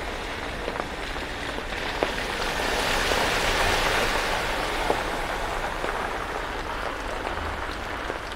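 Heavy rain pours down on a town in Paramirim, Bahia, a dense, steady hiss of drops hitting surfaces with scattered sharper patters, close and continuous with no voices.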